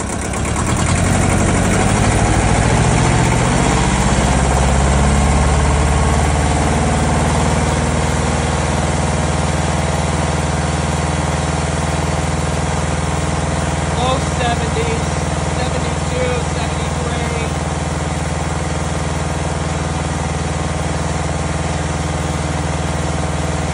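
The engine of a Ford 1700 compact tractor runs loud and close the whole time, its low rumble climbing in pitch as the throttle opens early on and then holding at a higher, steady drone.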